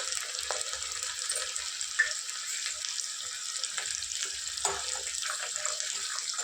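Dried red chillies, onion and garlic sizzle in a pan for a fenugreek-leaf dal tempering. A soft, steady frying hiss carries on throughout, with a few faint pops and clinks.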